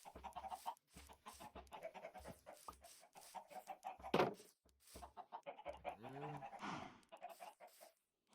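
Blocky chickens clucking in the video game Minecraft, a few short bursts of clucks and squawks at close range, separated by brief pauses, with a fuller harmonic call near the end.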